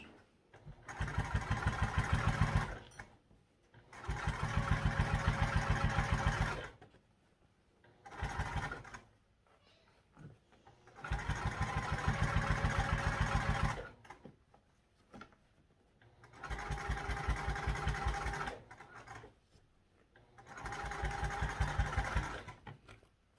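A sewing machine topstitches a backpack front pocket in six separate bursts of steady mechanical whirring, each a few seconds long, with quiet pauses between them at fairly low volume.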